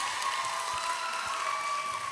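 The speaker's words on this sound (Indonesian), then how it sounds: "Sekali lagi tepuk tangan yang meriah untuk ketiga pemateri kita." An audience at a school seminar at a madrasah in Tuban gives the three speakers a sustained, even round of applause, a dense wash of clapping with no voices over it.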